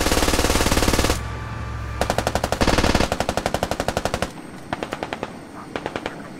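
Video game Squad gunfire: loud, rapid automatic bursts fire in long rhythmic strings, separated by brief pauses, followed by a slower series of single shots.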